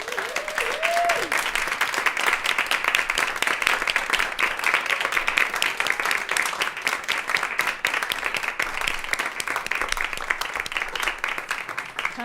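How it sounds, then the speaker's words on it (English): An audience at a community panel event applauds steadily and warmly for about twelve seconds as panelists walk on stage, a dense, even wash of clapping. "please give them a very warm round of applause as they come on out and join the stage"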